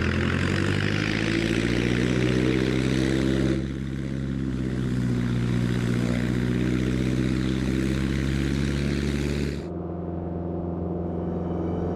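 Small bush plane flying over glaciers near Ushuaia, its propeller engine droning steadily and loud throughout, with a shift in tone partway and a lower, quieter hum near the end.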